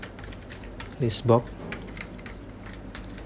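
Short bursts of computer keyboard typing while entering VBA code into an Excel list box, a few quick clicks under someone speaking.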